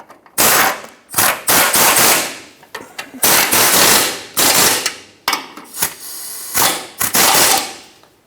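A power tool tightens the differential bolts on a 2008-2012 Jeep Liberty 4x4, loud close bursts of rapid rattling impact hammering, about eight separate runs with short pauses between them.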